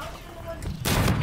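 Video game gunfire breaks out late: a faint lead-in of ambient hum, then a loud, sudden burst of shots rising near the end, close and sharp.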